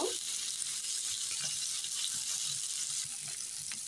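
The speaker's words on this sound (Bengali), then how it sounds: "এখন মশলাটা দিয়ে ভালো করে একটু ভেজে নিব" Dried loitta fish fries in a pan with ginger-garlic paste, salt, turmeric and chili powder, giving a steady, close hissing sizzle with faint stirring scrapes.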